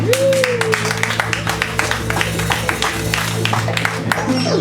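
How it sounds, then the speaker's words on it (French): Audience at a slam poetry evening against online sexual harassment applauding, scattered clapping over a steady electrical hum and sustained tones, moderately loud and continuous. "Si les hommes sont d'accord, ils peuvent applaudir"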